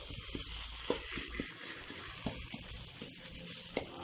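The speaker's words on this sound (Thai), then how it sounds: "ค่อยๆผัดไปเรื่อยๆนะ" Home-pounded curry paste for northern Thai khanom jeen nam ngiao is stir-fried slowly over low heat. It gives a quiet, continuous sizzle broken by irregular soft crackles and stirring scrapes.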